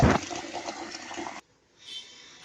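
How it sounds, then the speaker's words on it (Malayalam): Water gushes steadily as raw chicken is washed for a roadside food stall, a loud, close splashing rush that cuts off abruptly partway, leaving a brief quiet before a softer trickle. "അപ്പോൾ നമ്മൾ ആ ചിക്കൻ എല്ലാം കഴുകി വൃത്തിയാക്കുക"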